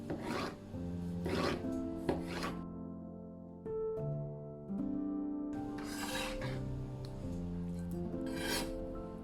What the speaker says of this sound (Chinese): 首先，我们将一块洗净的鸡胸肉切成条